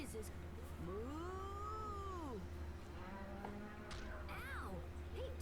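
A cow in the video game Tales of Graces f lets out a long, drawn-out moo, followed later by a shorter one, heard over a steady background hum with some faint game noises.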